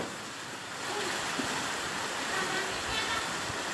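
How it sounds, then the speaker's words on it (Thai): Strong sea waves churn and roar during Storm Pabuk in Satun, Thailand, a steady broadband wash of surf and wind close by with no break. "ดูความแรงของคลื่นนะครับ"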